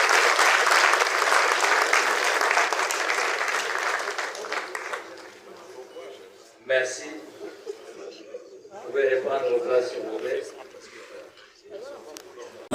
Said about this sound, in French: Sur l'applaudissement, s'il vous plaît